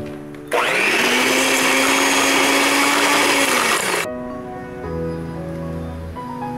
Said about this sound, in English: Then mix with a hand mixer, or if you have a stand mixer.